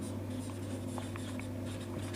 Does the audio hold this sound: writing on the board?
yes